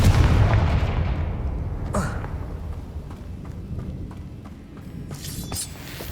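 A Confringo fire-blast spell explodes in Hogwarts Legacy, starting with a heavy booming blast that rumbles and fades, followed by a few smaller pops and crackles.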